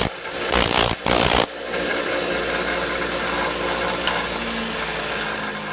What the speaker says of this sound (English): grind a little flat spot in here. And going to grind it right on the Harbor Freight name.